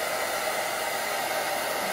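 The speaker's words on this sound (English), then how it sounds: "Take the blow dryer from this angle." A handheld hair blow dryer runs continuously while an older woman's hair is styled at home, giving a steady, close, loud whooshing hum that stays even throughout with no talking over it.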